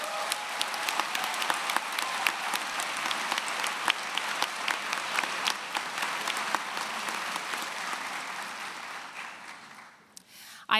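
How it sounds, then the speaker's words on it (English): Steady, sustained applause from a commencement audience honoring graduates' families, dense clapping throughout that fades near the end. "Let's give them a round of applause."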